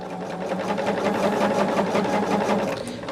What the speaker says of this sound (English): you sew along the outside of it at 1/4 of an inch